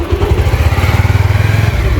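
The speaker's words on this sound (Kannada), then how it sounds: "ಪಿಂಟು ಅನ್ನ ಬೈಕ್ ಕಲ್ತಾನ ರೀ, ಗೇರ್ ಹಾಕೋಕ್ಕೂ ಕಲ್ತಾನ ಈಗ ಹೊಂಟು ನೋಡ್ರಿ" A motorcycle ridden by a boy learning to shift gears runs close by, its engine chugging in a steady low pulsing rhythm that rises slightly as it pulls away.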